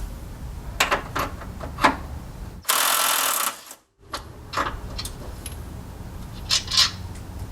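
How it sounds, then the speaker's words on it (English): A power tool spins off the strut top retaining nut on a 1979-2004 Mustang during a front coilover install, one loud burst of about a second amid scattered clicks and clanks of tools nearby. "Now we're going to go ahead and remove the strut top retaining nut."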